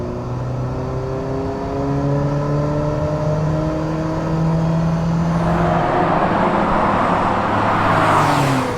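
A Ferrari Mondial's engine hums steadily on a test drive, its pitch rising through the gears at moderate volume, with a louder surge of revving toward the end.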